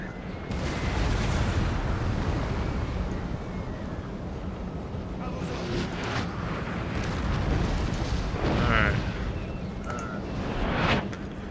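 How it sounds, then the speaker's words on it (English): Artillery fire in Napoleon: Total War on the Waterloo map, heard as a continuous rumbling barrage of booming cannon shots with several sharper blasts, loud and dense throughout. "their artillery just punches it"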